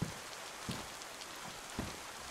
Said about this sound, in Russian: Там еще дождь этот идет